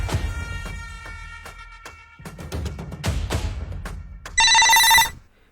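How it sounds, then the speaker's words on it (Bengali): A telephone rings in repeated electronic bursts during an office call, loud and close, with a brief burst of music-like tones near the end and no talk over it. "আমি তাড়াতাড়ি ম্যাডামকে ফোন করি।"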